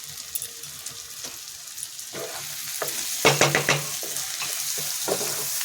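A pan frying with salt and garam masala being stirred: a soft sizzle runs under scattered spoon scrapes and clatters, with a quick burst of knocks past the midpoint.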